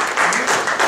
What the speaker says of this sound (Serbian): možda jednim aplauzom sada pozdravimo goste iz drugih zemalja